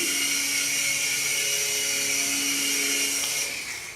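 Small RC helicopter flying indoors, with a loud, steady, high-pitched motor and rotor whine close by that drops off at the end as it sets down.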